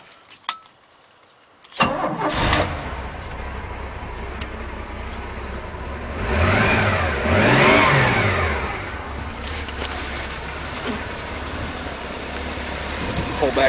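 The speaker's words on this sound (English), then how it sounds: "Go ahead and show you the motor running here." A few clicks, then the 250 straight-six inboard engine of a 1973 Reinell boat cranks and catches, settling into a steady idle with a couple of rising revs in the middle, close by.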